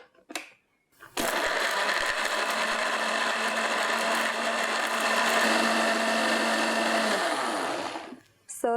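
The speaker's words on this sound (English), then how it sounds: "Blend it until smooth." A blender starts up after a brief clatter, whirs loudly and steadily for about seven seconds blending coriander seed, white peppercorn and water, then winds down.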